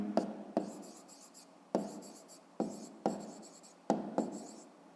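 Pen on paper during a fifth-grade maths exercise, short scratchy strokes in irregular bursts, close and quiet with no talk.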